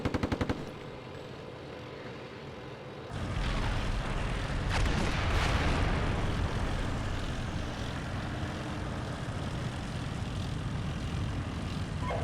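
Gunfire in the Steel Beasts Pro PE tank combat game, a rapid rattling burst at the start, then a loud, dense roar of sustained fire and engine noise continuing steadily, with no talk.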